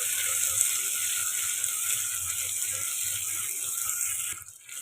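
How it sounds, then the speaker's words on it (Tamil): Small onions and curry leaves sautéing in oil in a pan for a village-style fish curry, a continuous bright sizzle with faint scraping, close and even, briefly dipping at the end. "இதோடு சேர்த்து நல்லா வதக்கலாம். கொஞ்சம் பொன்னிறமாக வதங்குற வரையும் வதக்குங்க."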